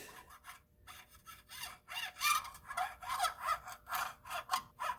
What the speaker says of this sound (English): You can hear that scraping.